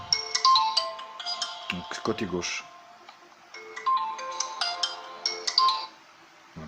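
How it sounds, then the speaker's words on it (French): A Blade Maze smartphone plays a chiming melodic ringtone from its settings menu, clear and fairly close, repeating its bright tune while someone speaks French over it. "sonnerie du téléphone"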